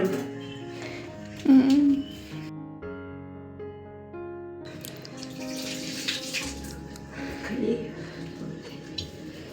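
Water runs and splashes into a bowl for several seconds, with a brief louder gush and some clattering; a voice speaks faintly at times.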